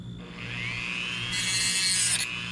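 Dremel rotary tool cutting while crafting a bolo tie tip, a close, steady high whine that rises in pitch and grinds harder toward the end, running alone for a couple of seconds.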